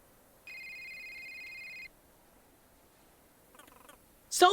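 A cell phone rings in the cozy exploration video game A Short Hike, a steady electronic trill held for about a second and a half, followed by brief soft game sounds and a louder rustle at the end.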